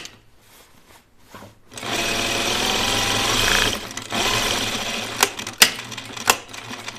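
A sewing machine stitches a quarter-inch seam on fabric for pajama bottoms, running in two sustained bursts with a short pause between them, followed by scattered clicks and handling noises as the fabric is adjusted.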